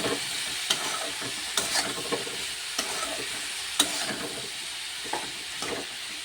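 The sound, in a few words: stirring chilli powder into sizzling pan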